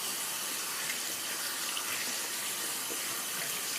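Water runs steadily from a tap as soap is rinsed off hands, a continuous close hiss of splashing flow with no voices.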